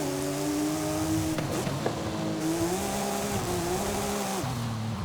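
A Porsche race car in Forza Horizon, its engine droning steadily at close range as revs climb and dip through low-speed corners, with brief tire squeal and shifts in pitch.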